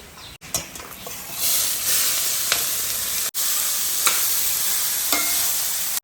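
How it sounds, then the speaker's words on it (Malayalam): Garlic, rice and dried red chillies frying in a pan, a steady hissing sizzle with occasional ticks and crackles and two brief cutoffs in the sound. "ഇതിപ്പോൾ വെളുത്തുള്ളിയും പിന്നെ അരിയും അവിടെ വറുത്തിട്ടുണ്ട് അപ്പോൾ ഇത് ഇനിയിപ്പോൾ ഈ ഉണക്കമുളക് അതിൻ്റെ അകത്ത് ഇടാനാണ്"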